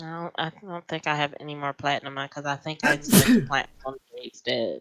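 One loud sneeze bursts out close by in the middle of a group's talk during a tabletop role-playing session, with conversation going on before and after it.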